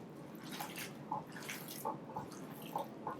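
Bare hands squishing and mixing a too-wet homemade hamburger meat mixture with breadcrumbs in a bowl, giving soft, wet, irregular squelches and slaps, close and steady with no talking.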